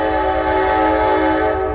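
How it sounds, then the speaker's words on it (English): An Amtrak train horn blares in the city near train bridges at Ping Tom Park in Chicago, a loud, sustained chord-like blast held steady over the low rumble of the train, with no talk. "this is the Amtrak hollering right now"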